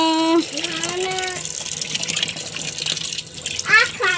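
Water from a hose pours into a home washing machine with a steady rushing flow. A woman sings briefly at the start, and faint voices and clinks sit over the flow.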